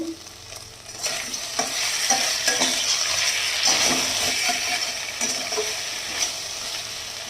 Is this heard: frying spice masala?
yes